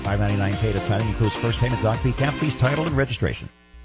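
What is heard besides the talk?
No everyday noise stands out behind the speech.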